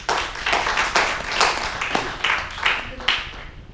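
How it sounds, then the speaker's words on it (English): A small audience claps for a speaker at a big-data storage talk, with distinct individual claps in an uneven rhythm rather than a dense roar, some hands louder and closer than others. "Please give him a big round of applause."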